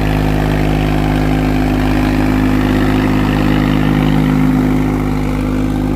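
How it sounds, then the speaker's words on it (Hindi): A new Swaraj tractor engine runs steadily under load in second high gear through a wet field, a loud continuous drone with a deep harmonic hum that holds level for the whole stretch, with no voices. "दूसरे के हाई में चल रहा है ट्रैक्टर।"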